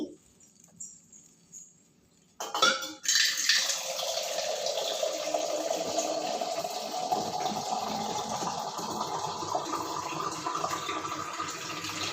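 After a few quiet clunks, plain water gushes steadily into a cooking pot, a continuous close splashing pour that lasts for many seconds.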